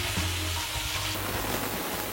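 Chicken pieces frying in hot oil in a home kitchen, a steady broadband sizzle with some low clattering at the start, continuous and fairly close, with no voices.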